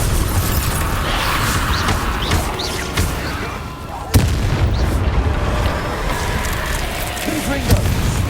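A Bombarda explosion spell going off in the video game Hogwarts Legacy: loud booming blasts, the sharpest striking about midway, over a constant roar of game noise, with a voice faintly present.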